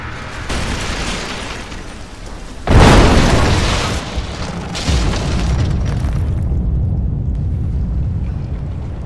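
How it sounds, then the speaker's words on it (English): Greek fire explosion in Rise of the Tomb Raider, one loud deep boom with a rumbling tail, followed by a second smaller blast and lingering debris rumble. "Looks like I'll have to use the Greek fire."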